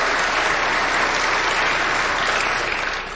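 Sustained audience applause for Mitt Romney's speech, a dense, steady wash of many clapping hands filling the room without pause before tapering slightly at the end.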